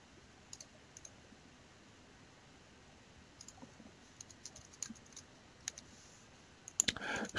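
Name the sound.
typing HTML code on computer keyboard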